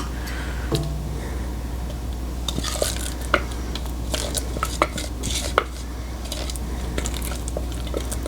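Carrots being added to cupcake batter and stirred in a bowl, with soft wet squishing and scraping plus scattered clinks of a utensil against the bowl over a steady low hum.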